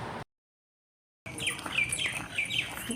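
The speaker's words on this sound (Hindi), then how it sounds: "चिड़िया की कितनी प्यारी आवाज़ आ रही है" Small birds chirp and tweet in a quick scattered series during an early morning walk outdoors, moderately close, after a brief moment of silence, with no talking.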